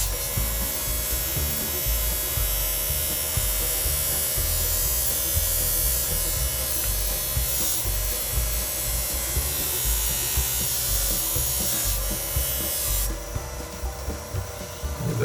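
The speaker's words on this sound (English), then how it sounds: "Let's put it on this polishing wheel, see what it does right here." A polishing wheel whirs loudly and steadily while buffing a rusty carbon steel Case Sod Buster Jr. pocketknife blade, with continuous motor drone and grinding friction throughout and no talk.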